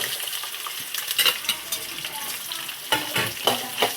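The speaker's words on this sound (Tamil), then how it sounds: "கடலைப்பருப்பு, உளுந்தம்பருப்பு இந்த மாதிரி தாளிச்சதும் இதில் வந்து வெங்காயம், பச்சை மிளகா சேர்த்துடலாம்." Onion and green chilli frying in hot oil with tempered chana dal and urad dal, a steady close sizzle broken by scraping stirs and brief louder crackles, with no one talking.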